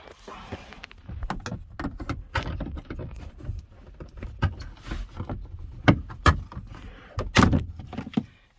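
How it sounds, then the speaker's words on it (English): Interior side panels of a first-generation Toyota Sequoia are pried loose, giving a series of sharp plastic pops, clicks and rattles at uneven intervals, close and fairly quiet, with handling noises between. "we're going to start by prying these out, the side panels out, just like that"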